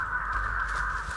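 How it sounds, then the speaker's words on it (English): Crows in the game Dead by Daylight give a continuous harsh caw, loud and close, sustained over a low background drone. "Why you gotta scream at me? Crows."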